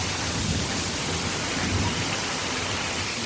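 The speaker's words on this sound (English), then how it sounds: "It's just raining and it's just pouring down." Heavy rain pours down steadily in a dense, even hiss. It sounds close and loud and never stops, with no voices over it.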